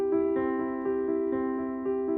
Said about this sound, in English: When you also press the sustain pedal on your piano